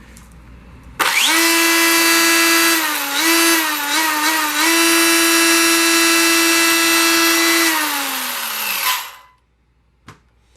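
An RC car's Dynamite motor and ESC run at high power, a loud, sustained high-pitched electric whine that holds steady for about eight seconds with brief wavering pitch dips, then winds down into silence and a faint click.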